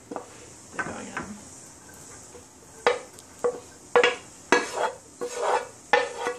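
Onions frying in butter in a pan for cockle fritters, with a steady faint sizzle under repeated clinks and scrapes of a utensil stirring against the pan, no talking.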